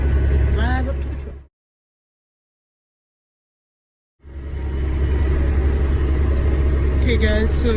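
A tractor or farm vehicle rumbles up toward a waiting truck during a corn harvest, with a steady low engine drone that cuts out for a few seconds and then returns. Someone talks over the engine.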